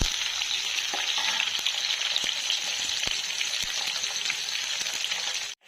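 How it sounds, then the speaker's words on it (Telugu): Onions frying in a pan until brown, a steady close hiss of sizzling oil with faint scattered crackles and occasional stirring taps, continuous and even with no one speaking, cutting off sharply at the end. "ఆనియన్స్, వీటిని బాగా బ్రౌన్ కలర్ వచ్చేదాకా ఫ్రై చేసుకుందాం."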